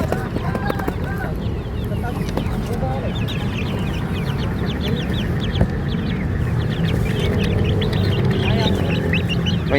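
Young Bangkok fighting chickens, one to three months old, cluck and chatter steadily at a busy Dayak market in Makassar, with overlapping calls, scuffling and background voices.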